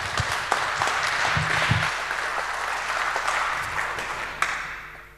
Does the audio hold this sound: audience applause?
yes